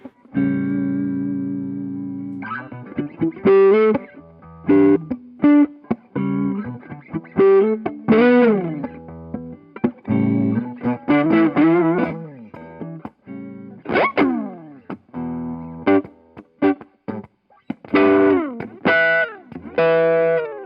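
Heavily effected Gibson Les Paul electric guitar with distortion and chorus, playing choppy chords and bending notes in bursts, loud and close, no talk.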